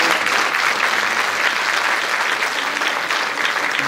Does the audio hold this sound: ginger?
no